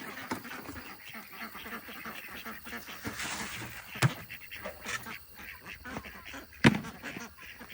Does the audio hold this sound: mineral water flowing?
no